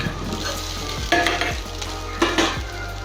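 Coconut rice being stirred in a pan, with cooked rice folded into a sizzling coconut mixture: a steady frying hiss runs throughout, punctuated by a few distinct scraping strokes of the spoon, close up and without speech.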